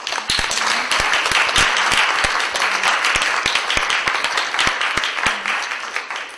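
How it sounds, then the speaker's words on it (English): An audience at a talk on ritual abuse claps steadily, with sharp, close individual claps standing out above a broad, sustained wash of applause. "Can we clap again for our courageous kids?"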